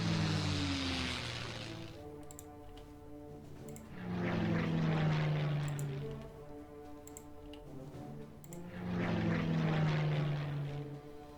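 Hurricane fighter planes droning through a Klotzen Panzer Battles wargame set in Norway 1940, propeller engines swelling in three loud passes separated by quieter lulls, with faint ticking clicks between them.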